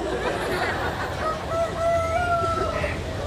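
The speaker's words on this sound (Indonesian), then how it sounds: "Berarti ada ayam." A rooster crows through steady background noise, its drawn-out call rising and holding in the middle of the stretch, with a faint clucking fowl sound nearby.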